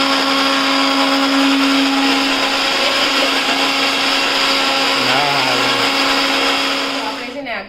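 Electric mixer blending a jamun shot drink, a loud continuous whirring whine close by that holds steady for several seconds before winding down at the end.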